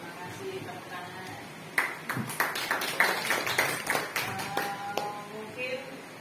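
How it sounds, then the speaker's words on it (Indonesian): Applause from a workshop audience, a burst of scattered hand claps of uneven timing that rises and then trails off over a few seconds. "Terima kasih tepuk tangan."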